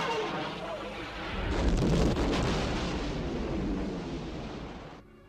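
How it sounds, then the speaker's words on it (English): Film-style blast of a planet being destroyed from afar, a loud roaring rumble that swells, holds for several seconds and then cuts off abruptly. "Entire planets can now be destroyed from a great distance."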